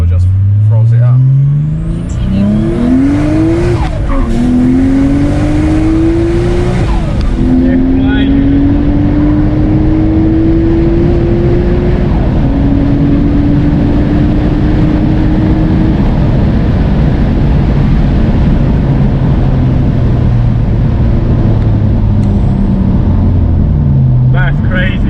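A turbocharged Nissan Skyline GTT with a manual gearbox and 450 bhp engine revs up in rising sweeps and then holds a loud, steady high drone close by. Excited voices talk over it near the start.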